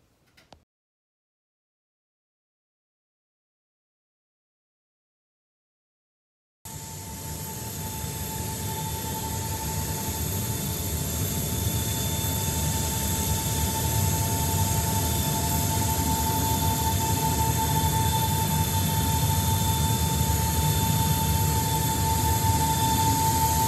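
Steady, loud interior drone of a C-17 military transport aircraft in flight, broadband engine rumble with a sustained whine, starting abruptly after several seconds of near silence and continuing unbroken.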